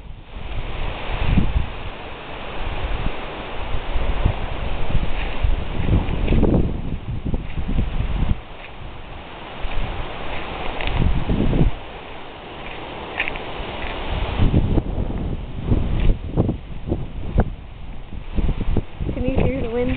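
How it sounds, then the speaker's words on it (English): Strong wind gusting around a home yard, with broadband rushing and buffeting against the microphone that rises and falls in loud waves throughout, under intermittent talk. "It's very windy today."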